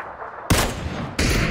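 Gunfire in the battle-royale game PUBG: two sharp, loud shots about seven-tenths of a second apart, each one followed by a ringing burst of noise, with no talking over them.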